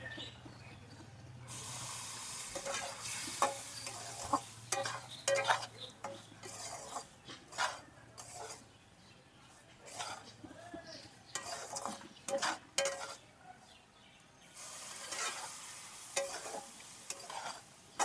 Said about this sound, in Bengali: অল্প অল্প করে জলটা দেবো আর নাড়তে থাকবো